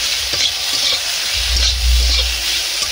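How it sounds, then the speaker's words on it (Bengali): Potatoes frying with salt and turmeric in a pan over low heat, giving a loud continuous sizzle with light stirring scrapes and a low rumble partway through. "আলু লবণ এবং হলুদ দিয়ে ভালো করে ভেজে নিচ্ছি"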